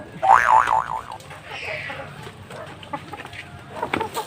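A chicken clucks close by in a short burst of rising calls, followed by quieter scratchy rustling and faint background sounds.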